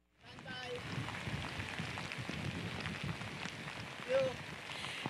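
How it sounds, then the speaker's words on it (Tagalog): Heavy typhoon rain pours steadily over the town of Agoo in La Union, a dense broadband roar that runs the whole time, with a faint squeak or two standing out briefly. "Pia Ivan, sa mga oras nga na ito ay napakalakas na ng buhos ng ulan dito sa bayan ng Agoo sa probinsya ng La Union"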